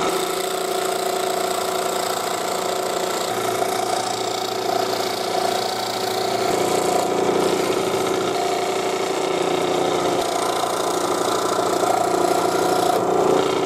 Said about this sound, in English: So we're going to go over to the scroll saw and just cut that template out.